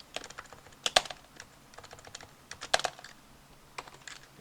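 Keys on a computer keyboard are struck in scattered clusters of crisp, close clicks, with a few sharper key presses standing out among lighter taps.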